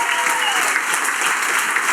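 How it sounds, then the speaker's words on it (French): A live show audience breaks into brief, dense applause, a steady wash of many hands clapping together at close range for about two seconds. "On peut l'applaudir."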